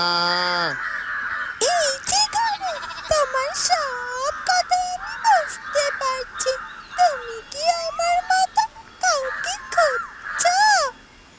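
Repeated loud cawing calls from a nearby crow-like bird, in uneven bursts, alternating with a child-like voice speaking.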